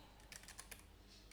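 Light, quick keystrokes on a computer keyboard while entering EC2 instance configuration code, a brief burst of close, soft clicks at a steady typing pace with no talking.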